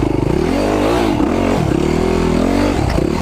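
An enduro motorcycle idles very low, its engine giving a loud, close, steady rhythmic thump with a slight wobble in pace.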